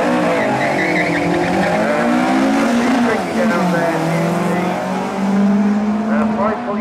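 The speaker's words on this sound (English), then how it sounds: "That will be Kim Harrison in the Stardust Dragster." The Stardust Dragster, driven by Kim Harrison, roars down the strip at Santa Pod on a drag run, its loud engine note rising and shifting as it accelerates past. An announcer talks over it throughout.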